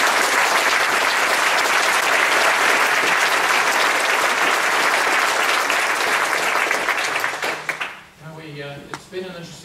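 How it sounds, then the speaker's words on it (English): A school hall audience at a Cashmere High School Year 11 prize giving bursts into loud, dense applause that holds steady for several seconds, then fades quickly as a voice begins speaking. "So I'd like you to give them a round of applause"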